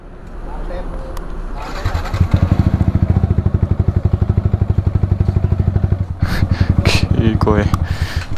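A motorcycle fitted with a modified exhaust revs and runs close by, its steady rapid pulsing loud and continuous, with a brief lull near the end before it picks up again.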